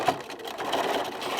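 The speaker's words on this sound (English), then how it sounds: "Same as before, we're going to back stitch or just stitch over that seam that's there in the center" Sewing machine running steadily over a seam, back stitching with a continuous fast mechanical whir, close and fairly loud, no talk.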